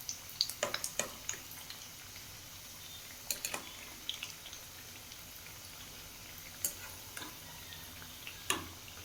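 Turkey berry vadai frying in hot oil are turned over: a quiet, steady sizzle with scattered light ticks and pops from the pan, and a few sharper clacks of the flip.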